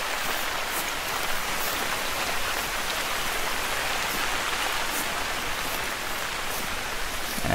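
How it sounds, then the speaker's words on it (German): Steady, dense rain hisses evenly throughout, loud and close, with no voices over it, in the hunting video game Hunter: Call of the Wild. "Es regnet ganz schön, muss ich sagen."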